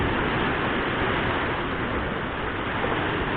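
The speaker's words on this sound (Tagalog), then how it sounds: "Medyo malaki ang alon guys." Big sea waves wash in a continuous, roaring rush of surf at a beach resort in Batangas, loud and close, with no voices heard.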